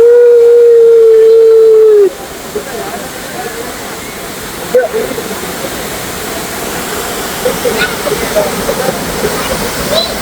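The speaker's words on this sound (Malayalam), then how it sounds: "സൂപ്പർ വെള്ളച്ചാട്ടം." A waterfall near Munnar, Kerala, roars as a loud, steady rushing hiss. A sustained whistling tone sits over it for the first two seconds.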